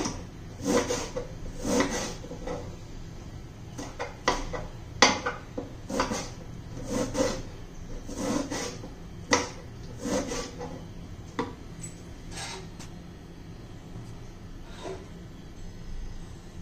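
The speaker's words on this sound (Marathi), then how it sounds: "तर त्यासाठी आपण प्रथम शेपू बारीक चिरून घेऊया" A knife chops dill leaves finely on a board in quick irregular bursts of sharp taps, close and clear, with brief pauses between runs and no voices.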